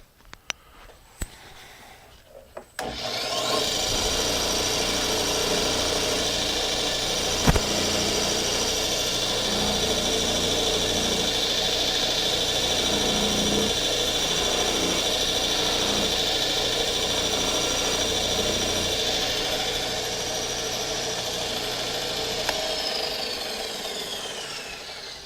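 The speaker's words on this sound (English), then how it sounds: "I'm going to put it on the wavy wheel, and I'm going to clean all this area up and make it look a little shinier." A wavy buffing wheel polishes a golf iron, a loud steady motor whir with grinding friction running continuously for over twenty seconds after spinning up, with a sharp knock partway through.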